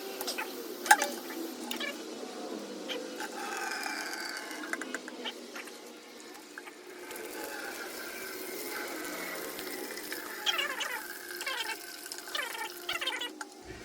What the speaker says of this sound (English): Let's see how the coolant comes out on this bad boy.